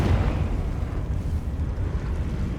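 A Confringo blasting-curse explosion in Hogwarts Legacy: a deep, rumbling boom that fills the moment at full strength and rolls on as a heavy low roar without fading.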